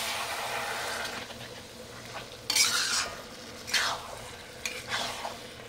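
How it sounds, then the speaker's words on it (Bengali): Mutton being stirred and sautéed dry in a hot pan, with a steady close sizzle and louder scraping bursts of the spoon against the metal. "একবারে মটনটা দিয়ে দিলাম। এবার কিছুই না, এবার খালি খালি কষাবো।"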